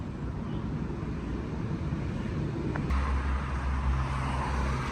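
A compact rental car drives along a road on Rhodes, giving a steady, close engine and road rumble throughout, with a low tonal hum strengthening in the second half.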